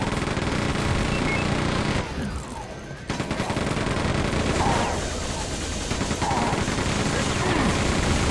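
Rapid gunfire from a weapon in the first-person shooter Quake 2, firing point blank as loud continuous bursts that break off briefly near the middle and resume, with game music and effects underneath.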